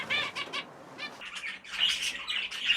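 Budgerigars in a bird shed chirp and chatter rapidly, with bright overlapping tweets and a flutter of wings, close and moderately loud, with no voices.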